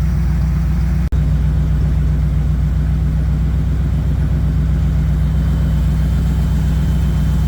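A Bombardier boat engine runs steadily with a low, constant idling hum and a faint rhythmic throb, broken by one sharp click near the start.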